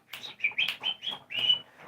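A person's voice imitates bird chirping, a quick run of six or seven high, shrill tweets over about two seconds, close and alone without other talk.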